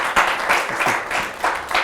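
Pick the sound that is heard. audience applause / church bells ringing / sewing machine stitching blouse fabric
audience applause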